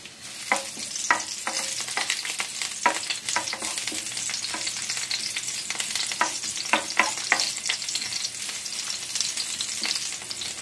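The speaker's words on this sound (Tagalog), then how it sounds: "pinipirito ko lamang po yung talong" Eggplant frying in a pan during home cooking, a steady close sizzle with intermittent scraping stirs.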